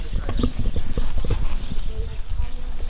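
Horse hooves clip-clop close by in an uneven, busy rhythm behind the scenes at a stunt show, with people talking over the steps.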